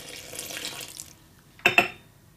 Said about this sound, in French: Et ensuite on termine par 800 centilitres d'eau